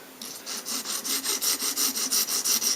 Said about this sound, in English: filing a little bit off its tip